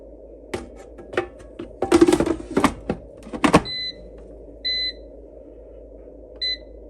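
A hot air fryer, used to crisp pepperoni chips, gives a series of short, clear electronic beeps in the second half, after a burst of clattering and handling noise, with no talk.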